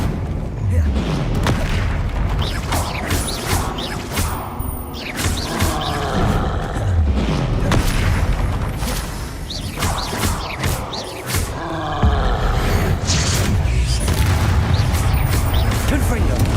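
Repeated Confringo fire-blast spells in Hogwarts Legacy, with loud booming explosions and crackling impacts in quick succession over a dense, continuous battle din. Voices are heard shouting through the fight.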